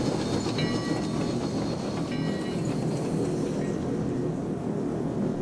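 A train roars steadily through a long tunnel, a loud continuous rumble with faint clickety-clack, and no voices.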